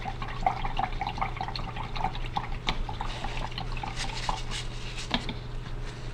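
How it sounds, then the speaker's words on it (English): A paintbrush is rinsed and swished in a container of water during watercolor-style color mixing, giving soft repeated splashes and drips that are faint and close, with no talking. "Rinse my brush."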